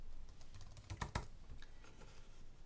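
A computer keyboard typed on in a quiet room, a quick run of soft, close key clicks with a few sharper taps, and no voices.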